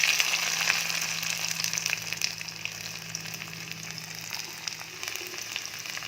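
Garlic goes into hot oil left from frying chicken for chicken manchurian, producing a close, even sizzle that slowly eases over six seconds, with no talking.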